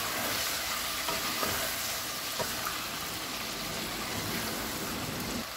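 Chicken handi with chopped tomatoes, turmeric, lemon juice and soy sauce powder being stirred in a pan, a steady close sizzle with soft scraping strokes running throughout and no talking.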